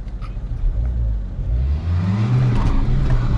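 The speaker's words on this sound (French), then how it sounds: "Fais-moi ronronner le moteur, lui." A car engine rumbles close by and revs up in a deep, rising growl, with no talk.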